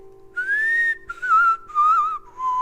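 A person whistles a short tune of four sustained, wavering notes, clear and close, with a faint steady hum beneath and no talking.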